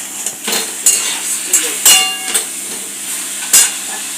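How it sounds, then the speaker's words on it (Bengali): A metal spoon stirs chicken with ginger paste in a pan, loud sharp clinks and scrapes against the metal recurring irregularly over a soft background sizzle. "সেই জন্য আমি একটু নাড়তে দেবো"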